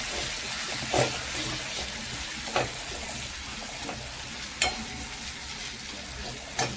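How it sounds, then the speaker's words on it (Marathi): Tomato and onion, mashed into a gravy, sizzle steadily in a pan. A spoon stirs and scrapes at intervals, giving occasional sharp clicks over the continuous frying hiss. "टोमॅटो छान बारीक कसा परतून घ्यायचा, थोडीशी ग्रेव्ही व्हावी त्यात"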